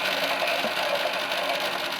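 Toy Miele W1 washing machine running a wash, its crank handle jerking to make a steady whirring, rattling mechanical noise that stays continuous and close throughout.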